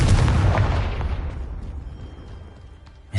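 The Confringo fire spell explodes in the Hogwarts Legacy video game: a single loud, close blast that rumbles and decays over about three seconds.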